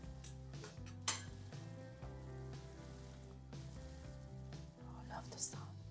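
Fusilli pasta being stirred with tuna sauce in a pan on a hob, with a quiet sizzle, soft scraping and clinks of a utensil against the pan under a low, droning background tone.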